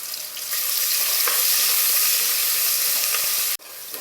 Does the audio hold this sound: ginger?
yes